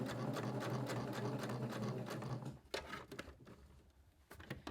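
A sewing machine runs steadily as it stitches a raw-edge fabric applique, a fast even whir that stops near the middle, leaving faint clicks and handling noises.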